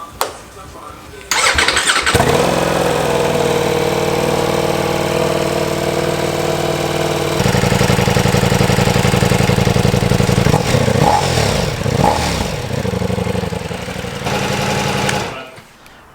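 A Ducati Diavel V4 motorcycle fires up and settles into a steady, loud idle close by, with a brief rise in revs near the end before cutting off.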